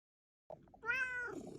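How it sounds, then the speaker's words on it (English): A cat gives a single close, clear meow, rising then falling in pitch, preceded by a few faint soft sounds in an otherwise quiet room. "look at very quickly at this video of my cat"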